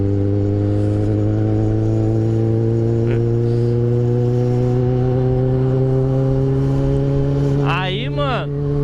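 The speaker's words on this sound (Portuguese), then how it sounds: "motor começou a fazer barulho estranho, começou a dar umas batidas, não é normal" A Yamaha XJ6 motorcycle engine with a strange knocking fault runs steadily and loud, a strong droning hum throughout, with a brief higher warble near the end.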